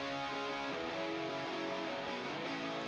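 A distorted electric guitar through a wide and crunchy EQ preset plays a thick, crunchy sustained part, bright and saturated, continuing steadily without pauses.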